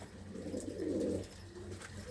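Pigeons kept in open mesh lofts with crates give a faint murmuring coo that swells in the middle, over low steady background hum.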